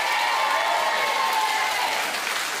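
A television studio audience claps and cheers steadily during a quiz results show, a broad, even wash of hands with no speech over it.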